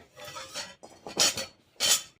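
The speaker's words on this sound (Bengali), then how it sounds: "এবার চাপিয়ে দেবো কড়াই" A metal karai (wok) is set down on a stove, producing three short metallic clanks and scrapes, close and fairly quiet, with brief pauses between them.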